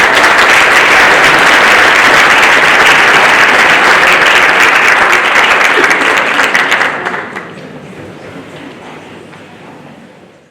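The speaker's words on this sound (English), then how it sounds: "Let's give my closet a round of applause." Audience applause at a school business pitch night, loud sustained clapping from a large crowd that fades sharply after about seven seconds into a quieter tail of scattered claps.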